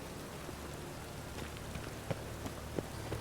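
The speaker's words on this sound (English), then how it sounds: "Rain again." Rain falls in The Witcher 3 video game, a soft, even hiss of rain on surfaces with a few faint droplet ticks, low in level throughout.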